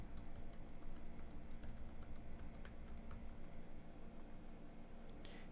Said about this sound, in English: if I type in my office address